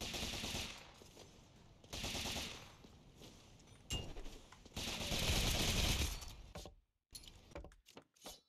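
Weapon fire in the video game Rogue Legacy 2, loud rapid bursts of gunshots in several volleys with short pauses between, ending in a few scattered shots.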